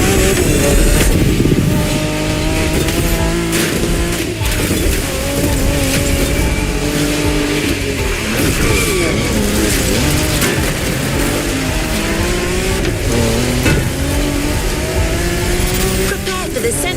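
A Ford Mustang Boss 429 classic muscle car engine in a racing video game, revving and accelerating loudly with rising and falling gear pulls and tire squeal, running continuously under a talking voice.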